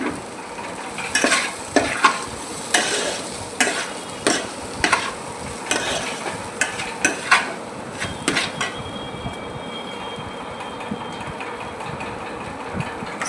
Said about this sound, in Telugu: ఇప్పుడు కడిగి పక్కన పెట్టుకున్న అటుకులు దాంట్లో వేసేయాలి.